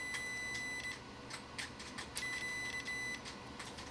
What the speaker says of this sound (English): I can actually change it to what I call beeping mode, to where when you touch them together,